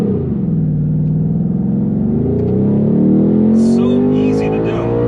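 A 2021 Ford Mustang Mach 1 V8 revving hard with line lock holding the front brakes, a loud steady engine roar whose pitch climbs and is held high, with a voice briefly audible over it.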